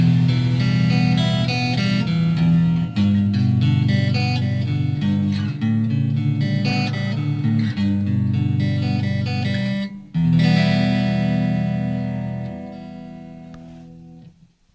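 A Fesley super strat electric guitar plays on a clean tone through its neck pickup, with ringing chords and notes sounding steadily and alone before the final chord fades out.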